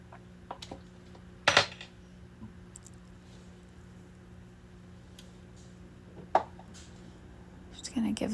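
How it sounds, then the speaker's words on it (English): Carrots with oil and butter are stirred in a pan, with a few sharp metal clinks of a utensil against the pan over a faint steady hum, sparse and close, mostly quiet between strikes. "Just gonna give that a little stir."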